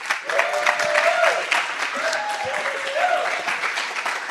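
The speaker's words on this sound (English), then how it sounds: "Let's give a huge round of applause." Audience applause for two guests being welcomed at a livestreamed event, a steady dense clatter of many hands that keeps going for several seconds, with faint voices underneath.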